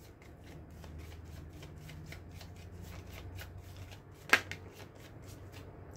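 Tarot cards are shuffled by hand in a soft, repeated riffling rhythm, then a single card drops out with a sharp brief slap before the shuffling settles.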